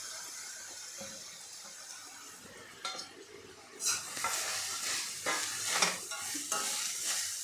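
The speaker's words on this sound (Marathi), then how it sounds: "त्याच तुपामध्ये आपल्याला गाजर घालायचं आहे आणि हे गाजर आपल्याला 3 ते 4 मिनिटे परतून घ्यायचं आहे" Carrots sautéing in ghee over a low flame, a soft sizzle that swells partway through, with stirring scrapes and light utensil clinks against the pan.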